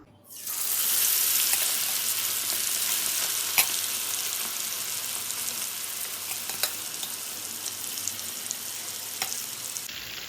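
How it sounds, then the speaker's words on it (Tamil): Marinated chicken drops into hot oil and deep-fries with a loud, dense, continuous crackling hiss that stays steady and close for the whole stretch, broken only by a few small pops. "இதை நம்ம ஆயிலில் போட்டு ஒரு த்ரீ மினிட்ஸுக்கு ஃப்ரை பண்ணி எடுத்துடலாம்"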